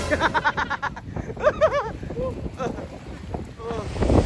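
Gusty wind blows along the edge of a lake during trout fishing, rumbling low and close into the microphone while a person talks over it.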